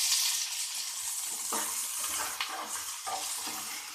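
Okra fries in a spoonful of oil for a Telugu-style pickle, a continuous bright sizzle with scraping stirs at intervals, close and steady throughout.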